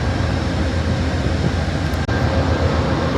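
Amtrak Southwest Chief long-distance train at the Los Angeles station after a long journey, close and loud, giving a dense continuous rumble and hiss with no pauses.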